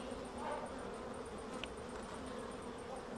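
Honeybees from a neighbouring hive on an orientation flight make a soft, steady buzzing drone. It is distant and continuous, with no talk over it.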